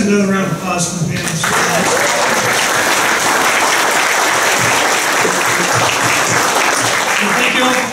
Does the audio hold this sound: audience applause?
yes